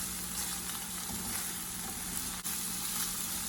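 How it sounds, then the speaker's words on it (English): Ground turkey fries in a pan with a steady, dense sizzle while it is stirred, one brief scrape cutting through the even crackle, with no voices. "Let me give this a quick stir."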